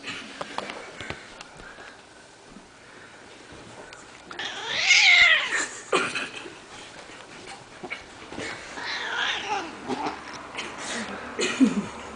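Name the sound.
cats growling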